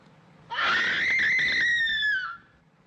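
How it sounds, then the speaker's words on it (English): A woman in the 1950s science-fiction film It Came From Outer Space lets out a single loud, sustained high-pitched scream lasting about two seconds, clear and alone before it cuts off. "she is the stereotypical, like, scared 50s, sci-fi woman that will scream at everything"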